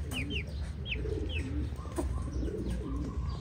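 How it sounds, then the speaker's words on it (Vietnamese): American giant pigeons coo in a captive flock on a Saigon farm, with repeated soft rolling coos and a few higher chirps over a steady low background hum. "Ở đây thì mình đang nuôi chim bồ câu gà Mỹ"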